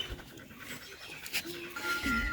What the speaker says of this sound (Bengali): আজিজুল ভাইয়ের কুকুরটা গরমে কেমন কাঁপতেছে